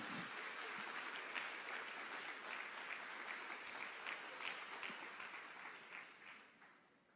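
A church congregation applauds in a long, dense roll of clapping that holds steady for several seconds and then gradually fades away toward the end, heard from a moderate distance.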